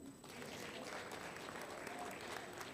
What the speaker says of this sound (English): Ladies, clap for the men.